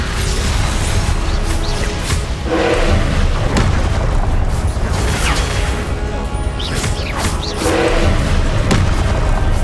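Confringo blast spells explode again and again in Hogwarts Legacy: a loud, continuous barrage of booms, crashes and whooshes running close and dense throughout.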